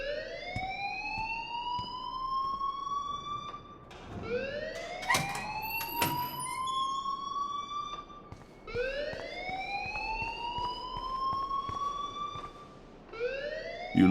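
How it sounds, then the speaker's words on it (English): A repeating electronic alarm in the video game Life is Strange whoops upward in long rising sweeps, one after another, loud and steady over several seconds with brief sharp clicks between cycles and no talking. "please turn off that alarm since that's your job"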